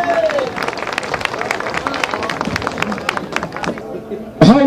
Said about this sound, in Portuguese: com os aplausos de Gravatá